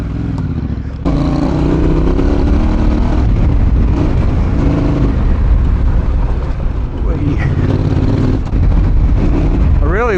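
A Yamaha Tenere 700 (T7) riding off-road on a time-trial course, its engine droning steadily and loudly with rises and dips in revs, while a voice talks over it for much of the ride.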